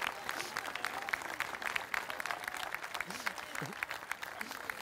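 Audience applause at a Canarian Noche de Taifas folk evening, a dense, steady patter of many hands clapping for the whole stretch, with faint voices underneath.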